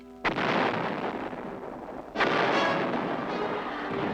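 Artillery fire from a military barrage: two heavy booming blasts about two seconds apart, each with a long rumbling tail, loud and with no voices over them.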